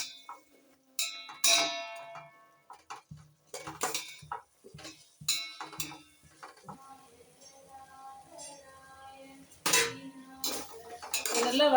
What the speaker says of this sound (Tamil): அதோட ஒரு தக்காளி கட் பண்ணி வச்சுருக்கேன், அதையும் போடுறேன். நல்லா வதங்கட்டும்.